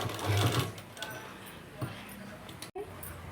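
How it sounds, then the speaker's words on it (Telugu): Sewing machine running as it top stitches a dress, a steady motor whir with mechanical ticking, fairly loud and close, with a short pause near the end. "దీనికి పైన మళ్ళీ స్టిచ్ చేస్తున్నా."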